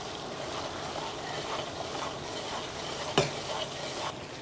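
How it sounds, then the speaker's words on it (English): Garlic and Calabrian chili sizzle steadily in a pan that is kept moving, with soft stirring scrapes over the constant frying hiss and one sharp clack of a utensil partway through. "you wanna keep your pan in constant motion because you don't wanna burn your garlic"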